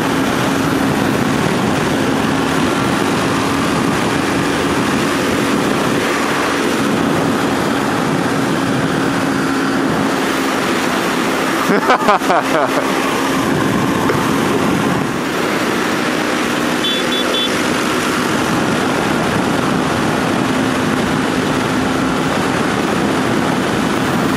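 A Kawasaki Ninja 300 motorcycle rides along a two-lane road, its engine and wind noise forming a loud, steady roar throughout, with a brief louder burst midway.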